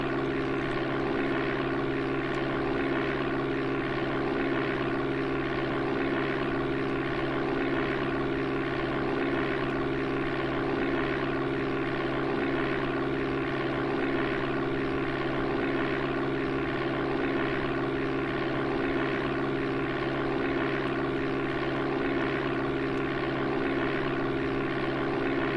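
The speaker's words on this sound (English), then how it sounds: "In the meantime, it's time to take off." A propeller airplane in the Amiga game Flight Simulator II drones at full power on its takeoff run, a steady synthesized engine hum held unchanged for the whole stretch.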